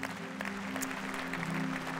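Applause from a church congregation at a Hillsong service, a dense, even patter of many hands heard at moderate distance, with faint voices mixed in underneath.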